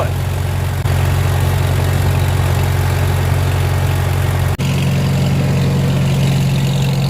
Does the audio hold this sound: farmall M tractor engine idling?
yes